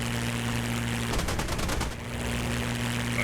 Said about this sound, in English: Went for a couple of cannon shots there